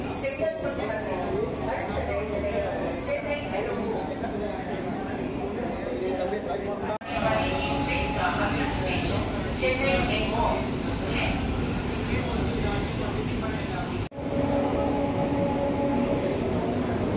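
A brand-new AC MEMU electric commuter train running in Chennai, a steady rumble and rolling rail noise inside the carriage throughout, with a person talking over it.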